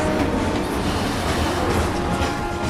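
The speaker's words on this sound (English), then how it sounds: "Miss this train, there's no telling when the next will be." A train in the Final Fantasy VII Remake video game keeps up a loud, steady rumble with rhythmic clattering of the rail cars throughout, and no voices are heard.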